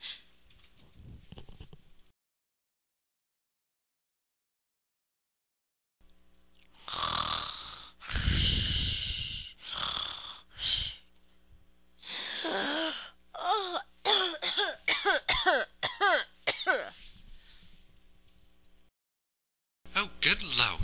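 A child coughs repeatedly in harsh bursts after a quiet stretch, with strained, rasping breaths between the fits, close to the microphone.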